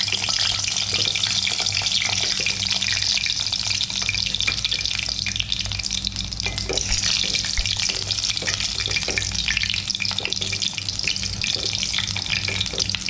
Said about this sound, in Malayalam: വഴുതനങ്ങ വാട്ടിയെടുക്കാൻ വേണ്ടിയിട്ട് ഞാൻ ഇതിലേക്ക് കുറച്ച് ഓയിൽ ഒഴിച്ചു കൊടുക്കുന്നുണ്ട്. നമുക്ക് ഇത് ഓയിലിലേക്ക് ഒന്ന് ഇട്ട് കൊടുക്കാം.